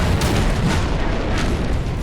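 A shotgun is fired in No Man's Sky, giving a loud, dense blast with heavy low rumble that fills the short moment, close and forceful, with no talk over it.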